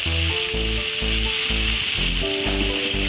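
Cauliflower fries with salt and turmeric in a hot pan for a duck egg dish, giving a loud, steady sizzle with regular low thumps from stirring.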